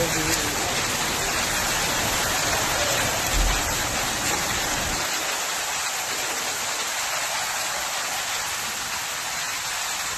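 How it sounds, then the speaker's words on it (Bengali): Heavy rain during a hailstorm, a dense continuous roar of water pouring down at fairly high level with little variation, and voices faintly present beneath it. "জোর শিলা হচ্ছে, শিলা বৃষ্টিতে শিলা পড়ছে"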